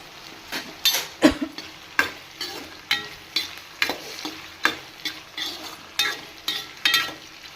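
Onions fry in hot oil with mustard seeds, cumin and peanuts, a constant sizzle broken by regular spoon scrapes about twice a second, close and clear with no talking.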